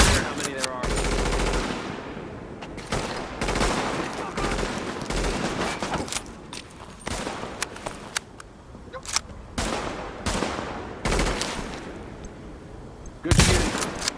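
Dense gunfire fills a firefight in the video game Tom Clancy's The Division, with repeated loud bursts and single shots almost without pause, and voices speaking briefly between volleys.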